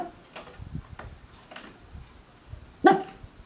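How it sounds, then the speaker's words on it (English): Several dogs barking sporadically indoors, a few soft scattered woofs building to one louder sharp bark near the end, with quiet ticking in the background. "all the dogs are just deciding to wake up at one time."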